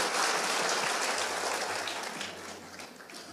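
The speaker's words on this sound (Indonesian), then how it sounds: "Boleh tepuk tangannya di extend buat tim praise and worship kita." Church congregation applauding the praise and worship team, broad steady clapping that fills the room and slowly tapers off.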